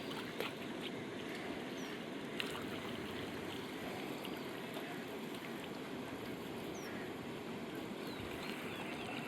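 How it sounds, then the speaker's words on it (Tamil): Steady rushing floodwater flows continuously under a bridge after a cyclone, a broad even roar with occasional faint bird calls above it. "தண்ணி இப்போவும் பாஞ்சோன்னு தான் இருக்குது"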